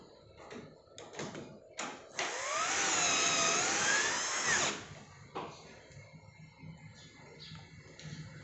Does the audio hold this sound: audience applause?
no